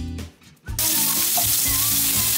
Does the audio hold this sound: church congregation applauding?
no